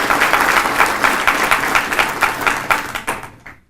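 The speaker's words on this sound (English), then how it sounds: "I think that deserves a round of applause" Crowd applause at a high school athletic Hall of Fame induction ceremony, a brisk burst of many hands clapping that rises quickly and fades out after a few seconds.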